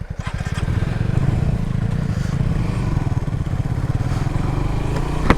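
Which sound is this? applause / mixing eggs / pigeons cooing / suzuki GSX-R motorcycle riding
suzuki GSX-R motorcycle riding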